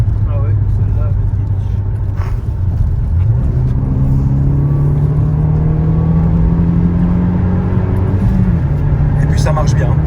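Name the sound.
Renault Megane RS engine revving while driving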